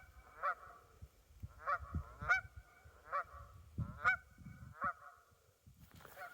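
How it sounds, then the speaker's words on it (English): Wild geese honking in a mountain setting in Snowdonia, about six clear, evenly spaced calls at moderate distance over a faint background. "A cry of wild geese in a wild place like this."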